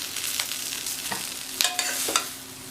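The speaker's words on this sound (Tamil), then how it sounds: "நீங்கள் கிண்டி விடும்போது பார்த்து இந்த மாதிரி மெதுவாக கிண்டி விடணும்." Plantain stir-fry (vazhakkai poriyal) being gently stirred in a kadai, with soft scraping strokes and light sizzling, a few sharper spoon-on-pan clinks standing out near the end.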